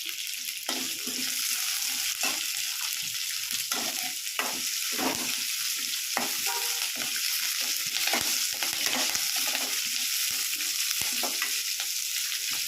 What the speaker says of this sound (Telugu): కొద్దిసేపు వేయించుకోవాలి 5 మినిట్స్